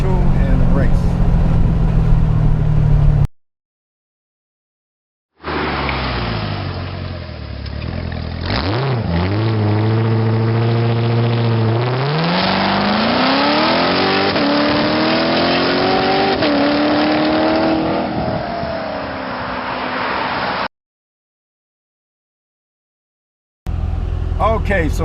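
A 2017 Corvette Z06 engine launches under launch control and accelerates hard, loud and close, its rising pitch sweeping upward for about fifteen seconds between stretches of silence.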